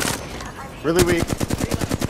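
A rapid, evenly spaced string of gunshots rattles close and loud in Apex Legends, starting abruptly after a brief quieter stretch with talking mixed in.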